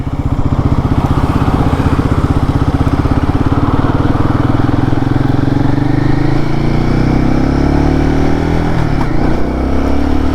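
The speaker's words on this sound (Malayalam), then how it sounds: "ബട്ട് അഗെയിൻ ഇതാണ് നമ്മുടെ വണ്ടിയുടെ സൗണ്ട്" A Royal Enfield Guerrilla 450 motorcycle being ridden, its engine a loud, steady, throbbing drone that stays close throughout and rises slightly in pitch toward the end as it accelerates.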